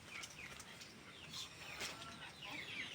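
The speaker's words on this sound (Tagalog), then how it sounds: "mga gutomin na yung aking mga manok." Chickens cluck and chirp continuously at close range, several birds overlapping in a busy, scratchy chorus.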